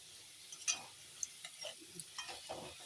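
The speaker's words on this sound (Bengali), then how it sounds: "দেখো বন্ধুরা আলুগুলো কি সুন্দর করে আমি ভেজে নিয়েছি" Golden potatoes frying in a pan are stirred, giving faint scattered scraping clicks over a soft, low sizzle.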